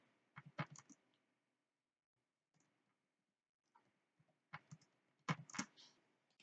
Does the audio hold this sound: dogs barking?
no